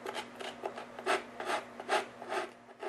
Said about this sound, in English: Then you can just go through and just clean it up slightly with the sandpaper stick.